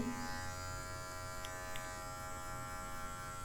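Electric hair clipper fitted with a medium guard cutting hair for a fade, a close, steady buzzing hum running without a break and no talking.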